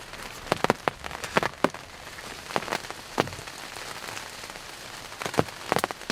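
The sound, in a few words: rain shower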